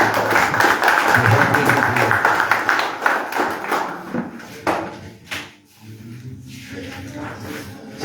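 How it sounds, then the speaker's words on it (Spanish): A crowd applauds a person at an event marking the 41st anniversary of the Paso de los Toros march in Montevideo, dense clapping strong for several seconds, then thinning and fading out. "fuerte aplauso para Enrique también."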